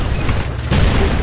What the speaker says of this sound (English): if a cannon doesn't get to you first